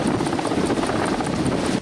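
Indian Air Force rescue helicopter on a flood relief mission, its rotor giving a loud, steady, close whump and roar throughout with no talk.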